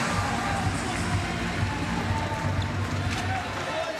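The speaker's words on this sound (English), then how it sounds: "Crowd enjoying every second of this." A crowd at a wheelchair rugby match cheers and murmurs as a steady distant roar, with an announcer's voice running over it.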